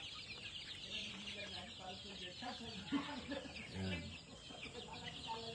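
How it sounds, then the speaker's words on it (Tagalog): Chickens cluck and peep steadily in the background on a large farm, with soft, busy bird chatter filling the air. Someone talks faintly over them. "Ito nyo, mga sisiw."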